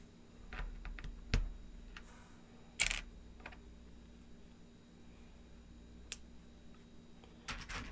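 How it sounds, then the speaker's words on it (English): Small plastic Lego bricks snapping together during a Magma Monster build: a few scattered, sharp, close clicks with quiet handling noise between them. "It's always nice when a Lego clicks on real good. That satisfying click noise."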